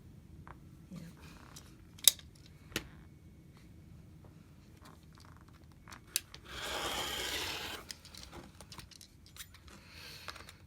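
Yellow and blue quilting fabric being cut, heard as quiet, close scraping and snipping with a few sharp clicks and a longer rasping cut in the middle over a soft background hum.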